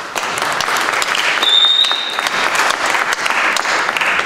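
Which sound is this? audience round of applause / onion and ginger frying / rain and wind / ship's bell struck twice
audience round of applause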